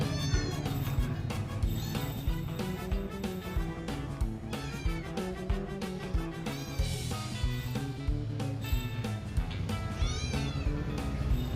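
A kitten meows repeatedly in high, rising cries, close and insistent, with a rhythmic pattern throughout and continuous background noise.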